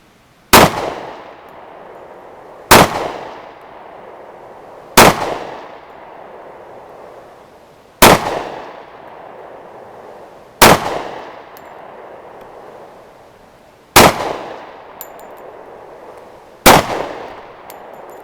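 A Smith & Wesson M&P Shield 2.0 pistol in .45 ACP fires seven loud, close gunshots, spaced about two to three seconds apart, each a sharp blast that rings out and decays before the next.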